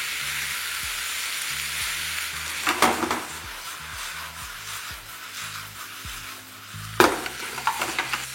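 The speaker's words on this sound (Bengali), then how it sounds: "ফ্লেমটাকে মিডিয়াম রেখে এটাকে ভালো করে কুক করতে থাকুন, যতক্ষণ না চিকেনটা একদম পারফেক্টলি কুক হয়ে যাচ্ছে।" Small chicken pieces frying in a pan over a medium flame for a chicken snack, with a steady loud sizzle and a few clinks of stirring.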